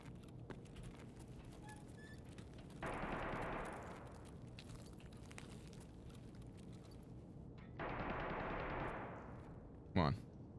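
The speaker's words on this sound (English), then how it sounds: "who's shooting at me? Somebody was shooting at me." Gunfire in the shooter game SPT Escape from Tarkov: two bursts of shots, the first near and the second a little later, with a sharp crack near the end against a steady background.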